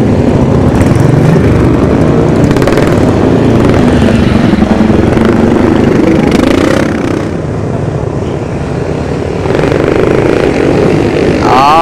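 Flat track motorcycles race at Brokstedt, engines roaring loud and close as they pass, rising and falling in a rough snarl while one rider lines up an inside overtake and then backs off.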